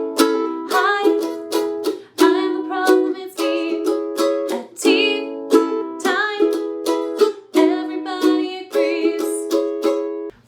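Ukulele strumming the chorus pattern of a song, a steady, bright rhythm of quick down-up strums with chord changes, close and clear, with no voice over it.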